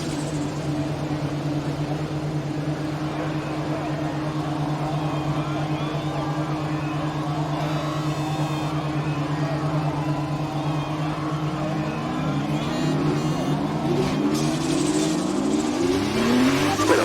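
Formula 2 race cars in the video game F1 2020 at a standing start in Monaco, engines held at steady high revs, then climbing in rapid, stepped rises as the cars pull away.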